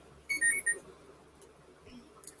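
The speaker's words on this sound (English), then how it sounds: "Sorry, that's my 12:15 alarm." A phone alarm goes off with a short burst of bright, repeated electronic beeps, crisp and close, followed by quieter room sound and a faint later chirp.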